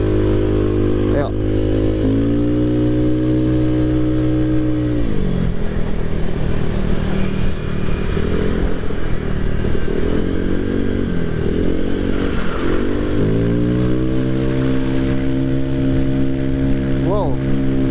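A bored-up Honda PCX 160 scooter engine drones steadily while riding, its pitch rising and falling with throttle changes and wind noise across the ride.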